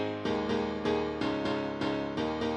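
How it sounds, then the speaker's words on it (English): Piano chords for a drop, struck in a steady repeating rhythm of bright, punchy stabs about every third of a second, loud and upfront with no voices. "For the drop chords I used 2 layers of pianos. The first one sounds like this."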